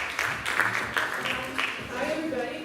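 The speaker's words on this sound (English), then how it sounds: "Let's give her a big round of applause." Audience applause fills the room at a talk on Internet governance and the media, a steady wash of clapping held at an even level from start to finish.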